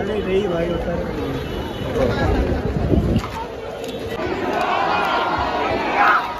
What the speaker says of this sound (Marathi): मरीन ड्राईव्हचा हा संपूर्ण परिसर बघू शकता किती गर्दी आहे.